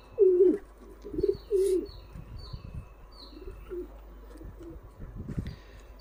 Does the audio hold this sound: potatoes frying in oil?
no